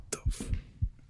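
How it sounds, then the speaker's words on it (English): Video game heartbeat thumps deeply in a steady slow rhythm, three close, low beats in quick succession, loud and alone with no talking. "my heartbeat"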